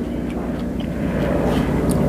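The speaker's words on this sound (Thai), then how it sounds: "เสียงเครื่องบิน" Airplane engine droning overhead in a rural Thai outdoor setting, a steady low rumble that swells slightly louder toward the end, with no talking.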